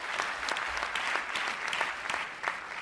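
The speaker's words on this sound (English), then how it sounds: "Give yourselves a round of applause" An audience at an education fundraising event claps steadily, a dense, even patter of many hands with a few sharper claps standing out, heard fairly close with no talking.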